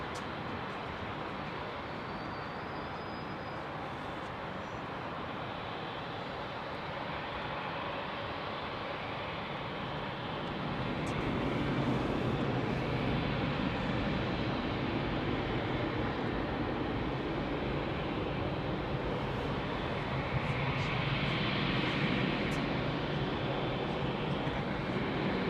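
A jet airliner at Heathrow Airport at night taxis slowly onto the runway, its engines a distant, steady broadband rush that swells louder about halfway through and holds at that level.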